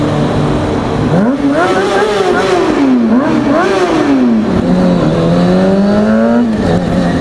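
A loud car exhaust revs repeatedly, pitch rising and falling in throaty surges, close by and continuous with no talking.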